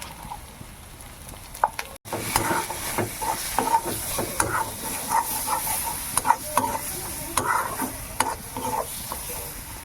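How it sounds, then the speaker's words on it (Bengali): Spices are stirred into a village-style pangas and tengra fish curry frying in oil, with a continuous sizzle and repeated scraping stirs after a brief cut near the start. There is no talk. "একটুখানি কাশ্মীরি লঙ্কা গুঁড়ো দেবো, পরিমাণ মতন হলুদ দেবো"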